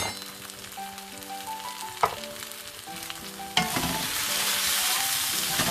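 Chickpeas and spices sizzle and spit in a hot pan, with a clatter of stirring, and the frying grows louder and hissier toward the end as the pan boils dry.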